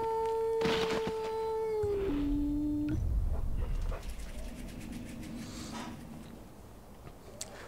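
A tamed big cat in the game Far Cry Primal gives a low growl amid game music tones and effects, with someone speaking over the sound partway through.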